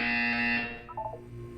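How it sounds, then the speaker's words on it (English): Loud electronic buzzer in the Portal 2 video game, a single harsh tonal blast lasting about half a second, then fading into a softer wavering electronic tone. "You will hear a buzzer. When you hear the buzzer,"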